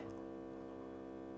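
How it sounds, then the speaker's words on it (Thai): A HumminGuru ultrasonic vinyl record cleaner drains its tank, its pump giving a faint, steady electric hum with a buzzy harmonic tone that holds evenly throughout. "นี่คือการดูดน้ำออกนะครับ"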